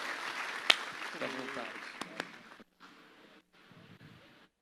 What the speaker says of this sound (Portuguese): Você pode dar uma salva de palmas para Jesus pela vida dele?